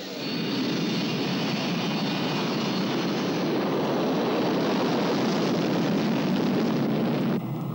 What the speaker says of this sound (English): That, ladies and gentlemen, is Continental Air Micronesia, the plane that brought in the Vice President of the Federated States of Micronesia, the Honorable Petrus Tun, to his home islan